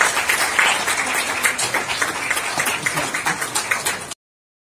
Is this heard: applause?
yes